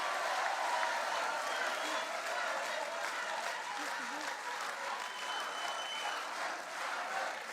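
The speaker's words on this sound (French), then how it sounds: "Allez, on applaudit Charlotte." A festival audience at a student mini-company pitch battle applauds a presenter named Charlotte, continuous hissing clapping from a sizable crowd at a steady level, with faint voices murmuring underneath.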